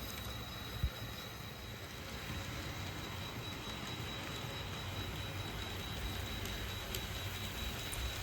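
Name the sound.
Santa Fe model passenger train running around the layout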